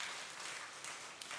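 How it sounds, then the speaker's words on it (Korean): A church congregation gives a brief round of applause for a visiting pastor and his wife, a soft, even patter of clapping across the room. "잠깐만 일어나셔서 박수를 받으시고"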